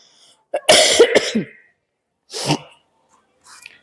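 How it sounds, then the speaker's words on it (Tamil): Several harsh, explosive coughs or sneezes burst out close by, a cluster of bursts followed by a single shorter one and a faint trailing sound. "இருமிக்கிட்டே பேசினாலும் சரிதான்"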